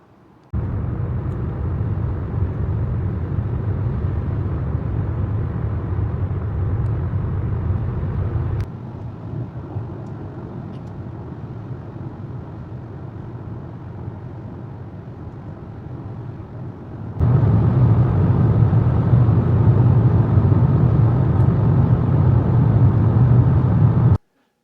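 Car cruising on a highway on a road trip from Oregon to Utah, a steady low in-cabin road and engine rumble that shifts level in three long sections, with no talk.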